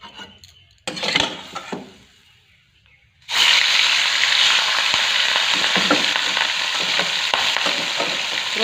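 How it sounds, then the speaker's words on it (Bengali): Pieces of fresh pond fish drop into hot oil with a sudden loud burst of sizzling that settles into a steady, strong crackling fry, preceded by brief clatter of utensils and pans. "এখন মাছটা ভেজে নেব।"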